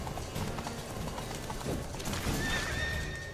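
A horse in The Witcher 3: Wild Hunt whinnies over the quick clip-clop of hooves, with faint mechanical clicks in the background.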